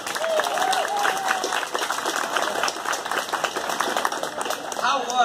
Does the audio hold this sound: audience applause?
yes